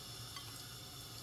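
Mustard seeds, jeera seeds and urid dhal frying in hot oil in a pan, a short, faint, steady sizzle with no talk.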